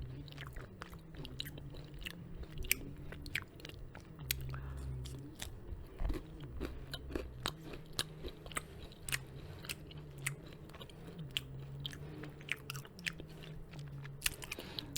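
Someone eats Whole Foods snacks close to the mic, giving steady repeated bites and crunchy chewing with sharp crackles at irregular intervals across fifteen seconds. The snacks turn out less crispy than they look, and the chewing is heard alone without talk.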